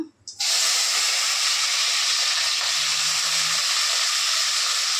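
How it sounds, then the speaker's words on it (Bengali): Cut beans and carrots drop into hot oil in a pan and burst into a loud, steady, hissing sizzle that holds without a break after a brief quiet start, up close. "এইবার এই বিনস আর গাজর কেটে রেখেছিলাম, এটা ছেড়ে দেবো।"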